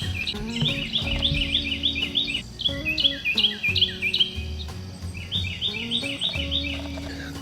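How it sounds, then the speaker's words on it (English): Outdoors on a cool, foggy morning, two birds trade quick high chirping phrases in repeated clusters, close by and distinct, with a faint steady background beneath. "Got two birds out here talking to each other."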